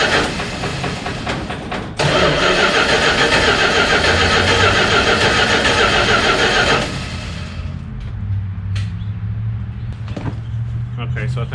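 An old engine that has sat for almost 20 years is cranked in a garage, a dense, loud churning roar for several seconds that drops off into quieter rattles and clanks, with a person talking nearby.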